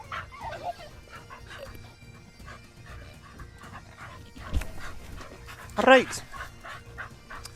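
Spaniels pant and give a few barks and yips outdoors beside a quiet country road, with someone talking over the dogs.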